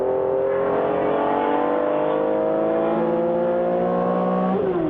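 BMW M1 Pro car and BMW Batmobile race cars battling on track, loud continuous engine whine with rising harmonics, close and sustained, a gear change near the end, no voices.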